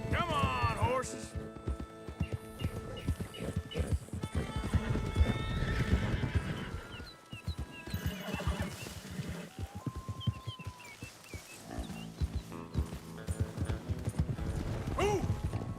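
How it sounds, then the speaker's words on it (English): Horses in the Red Dead Redemption 2 game world, hooves clip-clopping steadily with several whinnies and neighs rising over the hoofbeats, while a voice calls out and urges them on throughout. "Come on, horses."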